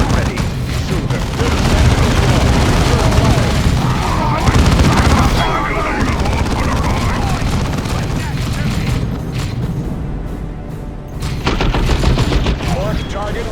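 Space Marines open fire in Warhammer 40K Dawn of War 2, a loud, continuous barrage of gunshots and booming impacts that fills the battle for several seconds, with voices over it.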